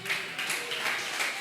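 Church congregation applauding, a brief steady wash of many hands clapping at moderate volume.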